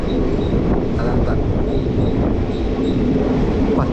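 The Kacheguda to Medak passenger train rolls along steadily with a loud, continuous rumble of wheels and carriages and faint squealing tones, heard from on board.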